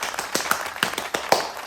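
A few separate hand claps, roughly five sharp, close slaps spaced unevenly, from a lone person, with no voices.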